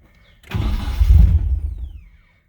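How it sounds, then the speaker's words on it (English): A car engine cranks and catches after a leaking fuel line was replaced, giving a loud, close low rumble that lasts about a second and a half, then fades out without settling into a steady idle. "so let's see if now the car will idle properly"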